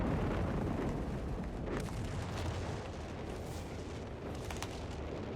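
Recon artillery barrage in Company of Heroes 3 during a 3v3 match on the Gothic Line map: a steady, dense rumble of distant shelling with repeated booms and bursts running through the whole stretch, no talk over it.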